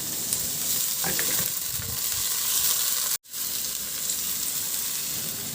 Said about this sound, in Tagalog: Igisa ko muna yung bawang. Ilagay ko na rin yung sibuyas.